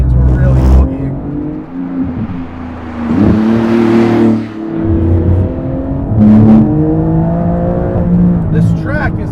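A Porsche 991 GT2 RS accelerates hard up through third gear on a hilly race track, its engine note climbing and shifting in loud surges while people talk over it inside the car.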